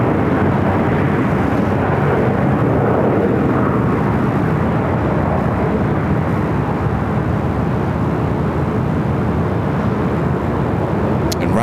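A large jet airliner roars at full takeoff thrust from runway 25 right at LAX, a loud, steady broadband rumble that holds throughout without letup.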